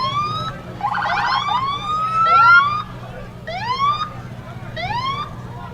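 Several police vehicle sirens wail and yelp at once in a Memorial Day parade in Ironton, Lawrence County, with rising sweeps repeating over steady engine rumble and crowd noise.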